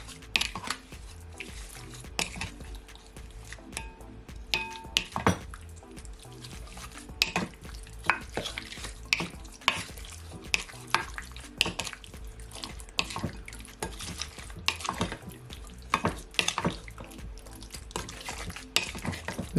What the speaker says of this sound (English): Then I'm just gonna use my wooden spoon and just mix it all in.